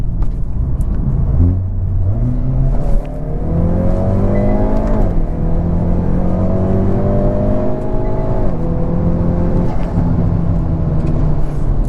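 A tuned Hyundai Veloster N with a DCT gearbox accelerates hard out of a corner, the engine note climbing through rising revs with a brief shift dip, loud and close from inside the car, with no talking.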